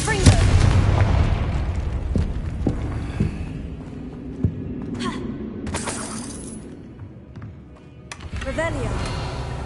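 A Confringo fire spell bursts in Hogwarts Legacy with a sharp explosive boom and crackle, followed by scattered impacts and shattering debris, then further magical whooshes, loud and near, with no talk.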